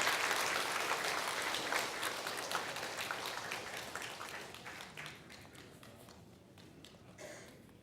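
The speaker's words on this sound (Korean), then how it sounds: "우리 박수 한번 쳐주십시오" A church congregation applauds after a baptism, with many hands clapping at once, fairly distant and soft, thinning gradually into scattered claps before a brief final flurry.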